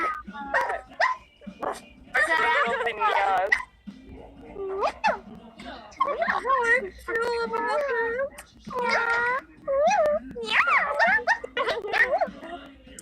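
A group of people imitate dog barks and yips with their voices, a loose series of short bursts overlapping with one another and with excited talk.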